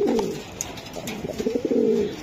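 Pigeons of a racing and tumbler breed coo close by in short, soft, repeated throaty calls, with no talking.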